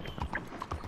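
Horse hooves clip-clopping in the video game Red Dead Online, a quick run of close, uneven hoof knocks over a short moment.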